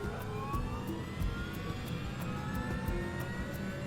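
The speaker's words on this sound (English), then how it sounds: "he records the sound of the engines from inside the cockpit" Jet engines of a Boeing 737 heard from inside the cockpit during a recreation of Air Florida Flight 90, a loud steady roar with rising whine tones as power builds and a faint regular ticking above.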